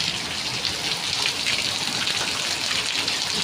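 Heavy rain pours down steadily, a dense, loud hiss of water that stays constant throughout with no voices.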